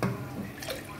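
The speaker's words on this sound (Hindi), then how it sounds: "थोड़ा पानी ऐड कर लूँगी बस" Water runs briefly and softly into a pot of cooking dal, a short splashing trickle close by.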